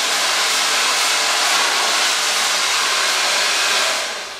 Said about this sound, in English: You blow dry the end.